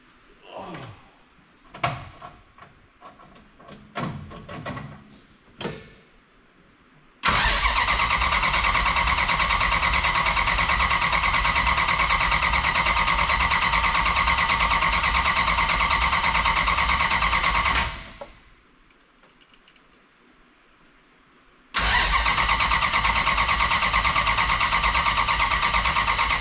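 A gasoline engine with a carburetor gives a few scattered clicks and cranking attempts, then catches and runs loudly and steadily for about ten seconds, cuts out, and fires up again running strong.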